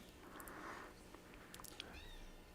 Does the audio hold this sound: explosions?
no